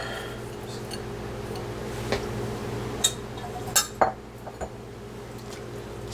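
Potato stirred into a crevettes bisque in a pot, with a few scattered clinks of a utensil against the pot over a quiet kitchen background.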